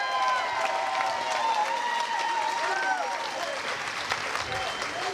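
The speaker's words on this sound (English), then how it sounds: "give them all a round of applause" Applause and cheering from a crowd at a judged contest, a steady wash of clapping that holds loud for the whole stretch, with whistles and shouts rising through it.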